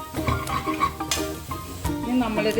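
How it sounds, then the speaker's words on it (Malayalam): Soya chunk masala stirred in a pan, giving a close run of scraping, clattering spoon-on-metal strokes with light sizzling underneath, continuous for a couple of seconds. "സോയൊക്കെ ഇട്ടു നന്നായിട്ട് ഇളക്കി യോജിപ്പിക്കണം"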